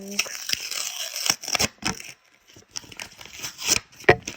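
Crisp tearing and crinkling of a paper packet being ripped open in several short bursts, with brief pauses between rips, close up.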